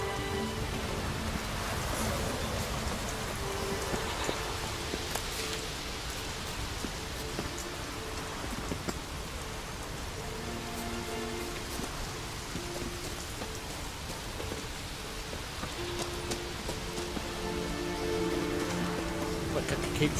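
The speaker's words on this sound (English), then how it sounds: "Keeps to a drizzle." Steady drizzling rain in the video game The Witcher 3, a soft, continuous patter of drops heard throughout, with characters talking intermittently over it.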